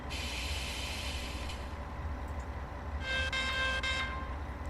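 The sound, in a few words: train locomotive in video game Train Sim World 5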